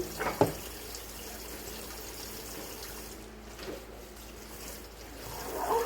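A kitchen tap runs steadily while a pile of dishes is washed, with a soft continuous water flow and a sharp clink of crockery near the start.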